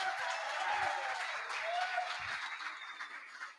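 Crowd applause at an Angel's Envy whiskey event, a dense patter of many hands clapping at moderate distance, steady then gradually thinning toward the end.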